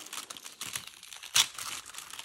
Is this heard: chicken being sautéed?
no